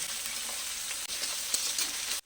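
Capsicum, raisins, peanuts, cashews, bay leaf, cardamom and cinnamon fry in a pan for vegetarian fried rice, giving a steady, close hiss of sizzling oil that cuts off abruptly near the end.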